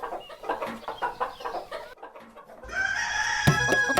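Chickens at a house cluck in a steady run of short, rhythmic bursts, then a louder, sustained call rises over background noise near the end; no one speaks.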